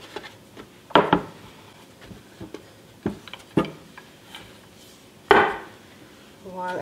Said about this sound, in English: And now I will roll this very thin.